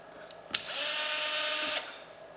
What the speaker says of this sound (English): you can put in a driver tip in your screw gun